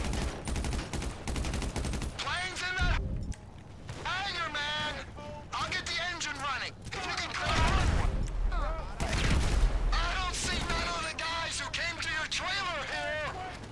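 Gunfire in the video game Grand Theft Auto V, with rapid automatic shots and bursts crackling beneath shouted, excited talk and game music, loud and nearly continuous.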